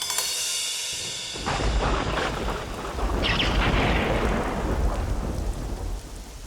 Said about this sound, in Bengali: বৃষ্টিটা আবার বাড়লো রে